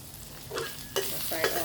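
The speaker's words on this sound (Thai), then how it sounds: "แล้วก็คนเนาะ คนให้พริกแกง แตกนิดนึงมันมัน ผัดหอมๆนะคะ" Thai curry paste frying with pork in a hot pan, stirred with a few scraping strokes over a soft, continuous sizzle, close and fairly quiet.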